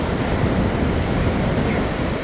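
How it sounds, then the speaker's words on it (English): Steady roar of ocean surf washing in continuously at Jervis Bay, Australia, broad and fairly loud, with some wind noise on the microphone and no voices. "And hear the waves crashing behind us."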